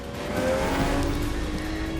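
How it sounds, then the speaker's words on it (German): A Lamborghini Murciélago with a 650 Nm V12 charges uphill fast on a racetrack, its engine roaring loudly and steadily at close range with a rising tonal whine and faint tire squeal, no talk over it. "Auf dem Bergaufstück spielt der V12 seine volle Leistung aus."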